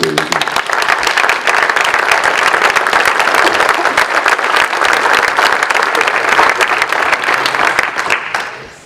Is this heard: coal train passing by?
no